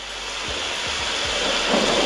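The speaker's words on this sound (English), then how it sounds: "you want to make it like you are walking in a heavy rain. You can just click on the heavy rain." A heavy rain effect from a voice changer app gives a steady, dense hiss of downpour with a few low rumbles, loud and continuous with no voice over it.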